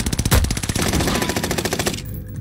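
Rapid automatic gunfire in a video game, a loud, close, steady stream of shots firing at an even fast rhythm for about two seconds before cutting off.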